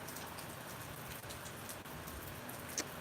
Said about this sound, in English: where the rain's actually dripping on the paving here is coming from this section of the roof where it's overflowing